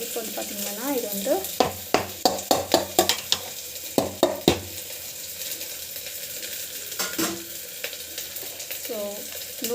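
Chana dal sautéing in a pan with a steady sizzle under a run of sharp, rhythmic scraping clicks from a spoon stirring against the metal; a few quiet tonal sounds come and go in the background.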